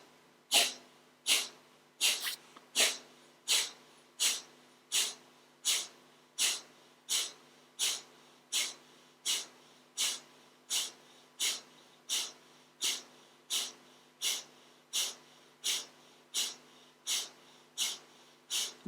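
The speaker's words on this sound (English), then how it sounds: "breathing out through my nose. So it becomes something called Kapalabhati, which is a cleansing breath" Kapalabhati cleansing breath: about twenty-five sharp, forceful exhalations through the nose in a quick, steady rhythm, each a short close puff, with slightly faster bursts near the start.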